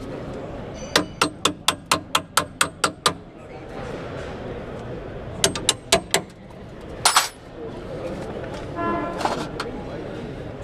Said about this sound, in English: Baby hammer.